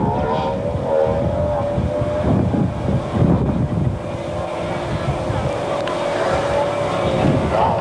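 A racing powerboat engine at full throttle in an offshore race roars hard and continuously, mixed with buffeting wind noise and the rush of water.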